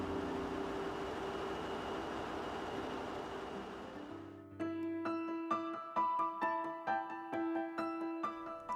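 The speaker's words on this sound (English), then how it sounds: "using rolling stock that GCO owns and maintains. Each train stretches for 328 metres" A freight train of company-maintained rolling stock, about 328 metres long and hauling mineral product to the port of Dakar, rumbles steadily at a distance, then fades as plucked instrumental music takes over.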